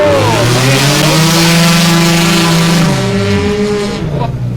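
Drift cars battle in a championship round at the Battle of Little Rock, engines wailing through rising and falling revs as tires squeal in a loud, sustained howl that fades near the end.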